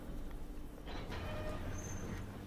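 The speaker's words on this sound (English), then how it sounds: "We got onto the train." Train in the video game BioShock 2, a steady low rumble of rolling wagons with faint metallic squeals and rattles, quiet and continuous.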